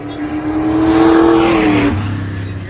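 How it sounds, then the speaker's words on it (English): A Ford Shelby GT500 revs hard on a racetrack, its engine note climbing loudly and then dropping as it shifts, close and continuous with no talk over it. "Are they running the GT500 out there right now?"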